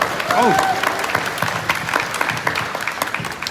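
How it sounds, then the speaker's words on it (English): A crowd applauds with steady, dense clapping throughout, with a brief voice near the start, at a Lunar New Year celebration at a cultural center in Queens, New York. "Let's give him a big round of applause."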